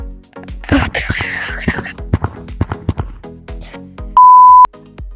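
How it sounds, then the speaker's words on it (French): A loud, steady censor beep tone lasting about half a second covers a swear word near the end, following bursts of excited French talk over game sounds in the climbing game Only Up Space. "Juste, je vais le couper avec le son bip."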